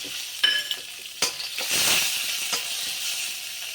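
Cashew nuts frying in a pan for a Vinayagar Chathurthi festival dish, a steady bright sizzle with a few sharp stirring scrapes and pops.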